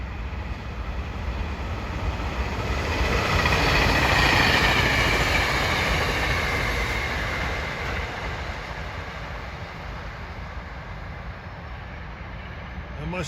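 A SEPTA Silverliner IV train, number 727, led by a Penn Central heritage car, rushes past at close range with a loud, sustained roar and rumble of wheels on rails that swells, peaks and slowly fades.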